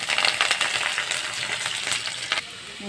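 Dried red chilies and garlic fry in oil in a pan, a close crackling sizzle with stirring scrapes and clicks throughout, easing slightly toward the end, with no voices.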